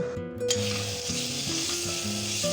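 Prawn malai curry sizzles steadily in a pan as it is stirred, a continuous hiss that sits under louder background music.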